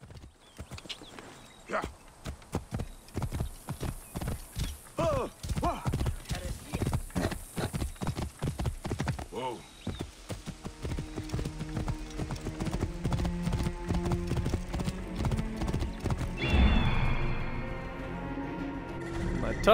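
Horse hooves clip-clop in rapid rhythmic beats in Assassin's Creed Origins, close and fairly loud, while someone talks briefly over the galloping.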